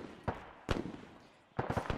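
Distant thuds of incoming indirect fire, mortar-like, in the ARMA military game: three separate muffled booms land in about two seconds, each with a short tail, the last a quick cluster of hits.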